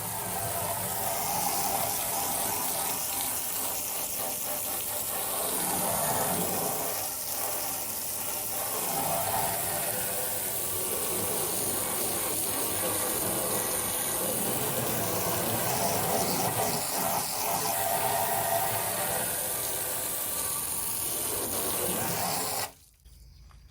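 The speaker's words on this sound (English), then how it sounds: "I'm gonna try a little bit of water pressure and see if that blows this stuff off" A strong, steady pressurized water spray rinses oven cleaner and stripped spray paint off a $100 Don Prudhomme funny car body, a continuous loud hiss and rush that runs nearly unbroken before cutting off abruptly at the end.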